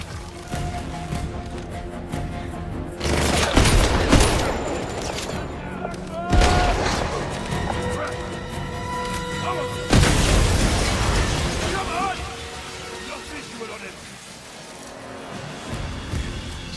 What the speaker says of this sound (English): Standing here exploding barrels?